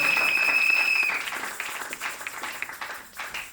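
A wedding congregation applauds, steady dense clapping that fades after the first second, with a sustained tone over the start.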